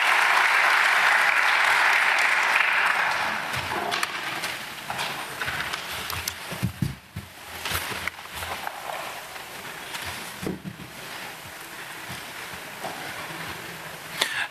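Audience applause at a master's graduation ceremony: a dense burst of clapping that is loud at first, then thins after a few seconds into scattered claps with some cheering.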